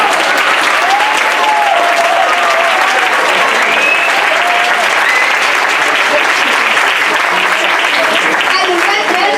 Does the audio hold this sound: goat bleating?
no